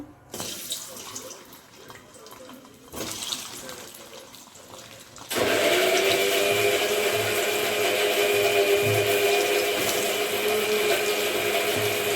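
An electric blender grinds ginger and green chilli with a little water into paste. After a quieter few seconds the motor cuts in abruptly, then whirs loud and steady to the end.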